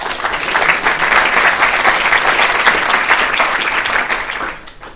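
A lecture audience applauds a sports nutrition scientist as he is introduced, giving dense, steady clapping for about four seconds before it thins out and fades.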